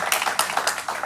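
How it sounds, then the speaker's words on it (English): Claps at a professional talk on AML audits, a short burst of a few close, distinct hand claps in an uneven rhythm. "A big round of applause for"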